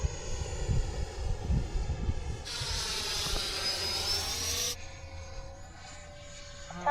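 A Freewing F-16 90mm electric ducted-fan RC jet with AS3X+ flies at a model airfield, giving a continuous whining roar that swells as the jet passes close overhead, then recedes and quietens.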